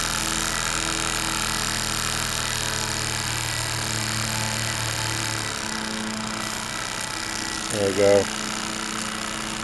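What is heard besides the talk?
toy steam engine running, fired by Esbit solid fuel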